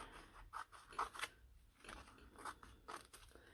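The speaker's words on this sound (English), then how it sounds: "I'm going to get my trimmer back out and cut the edge" A paper trimmer slices along the edge of a sheet of paper for a miniature room build, giving several short crisp cutting strokes up close at a quiet level.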